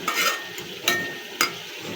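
Loitta dried fish fries in a pan, soft sizzling broken by three sharp scraping stirs of a utensil against the pan.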